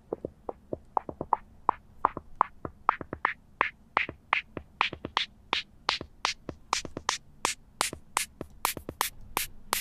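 A filter sweep in Logic Pro 9 run over a repeating rhythmic music loop, the evenly spaced hits growing brighter and sharper as the sweep climbs, played back cleanly with no talk.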